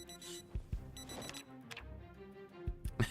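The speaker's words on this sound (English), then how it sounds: "Oh, the alarm in the stove!" A stove alarm goes off in the survival video game Project Zomboid, a rapid series of electronic beeps and ringing tones, fairly faint and irregular, with no talking.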